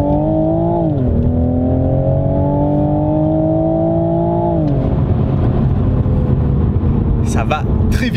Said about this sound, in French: on réaccélère.